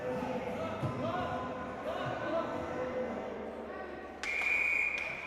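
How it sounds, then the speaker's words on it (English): At a high school ice hockey game, a sharp referee's whistle blasts near the end and lasts under a second, cutting through steady arena noise and commentary that runs throughout. "And another whistle."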